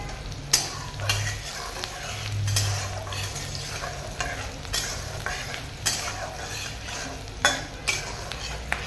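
Onion frying in a pan with whole cardamom, cloves and cinnamon, a steady close sizzle broken by sharp scraping clicks of a spoon stirring against the metal, with no voices.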